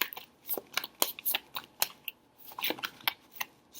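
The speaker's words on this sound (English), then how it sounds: "let me just go ahead and pull your angel cards" Angel cards being shuffled and pulled make a run of crisp, irregular flicks and snaps, close by and fairly quiet, with no voice over them.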